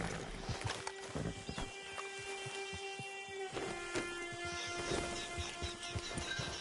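A horse in Red Dead Redemption 2 video game clops with irregular hoof strikes near and moderately loud, over a sustained tonal game music bed, with a brief snort or whinny-like sound mixed in.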